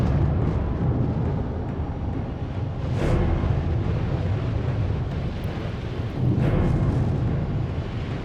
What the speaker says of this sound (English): the booming sounds of the volcano